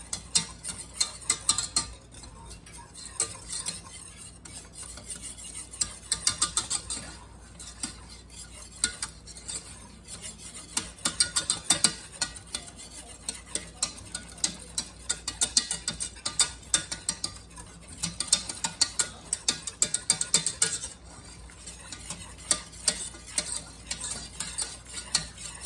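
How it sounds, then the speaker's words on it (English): Mac and cheese mixture stirred in a pot, a steady run of scraping and clinking from a utensil against the pot that carries on through the whole stretch without any talk. "And then you mix that together for 5 to 7 minutes."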